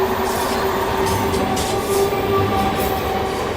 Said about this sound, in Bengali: অনেকটাই বিফোর আছে ট্রেন, তাই আস্তে আস্তে চলছে